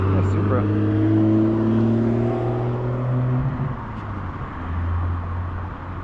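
A Toyota Supra accelerates past nearby, its engine note rising and then fading, with voices talking over it.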